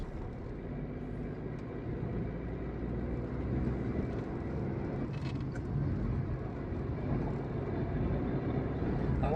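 Engine drone from a Tata Nexon running on CNG while climbing a slope in first gear, a steady low hum with mild rumble building slightly, faint and continuous inside the cabin with the air conditioning on.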